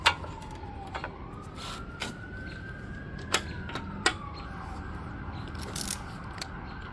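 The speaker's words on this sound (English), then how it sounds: "Sirens all over today here." A distant siren near a hospital wails, its pitch slowly rising and falling, beneath sharp nearby clicks and taps from repair work on a Briggs and Stratton lawn mower recoil starter rope.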